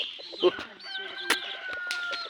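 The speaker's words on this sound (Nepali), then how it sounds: "भाले" A rooster gives a strained crow mixed with choppy clucks from nearby hens, close and moderately loud with sharp peaks, no talk over it.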